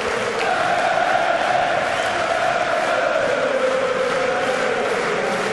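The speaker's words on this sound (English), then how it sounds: "That's got the crowd going." Darts crowd at a European tour arena roaring and chanting after a maximum 180, a dense sustained wash of cheering voices, loud and continuous.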